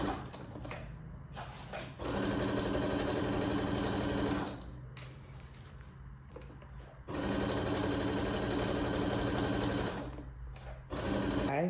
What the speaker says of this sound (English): So I'm gonna go ahead and stitch the lines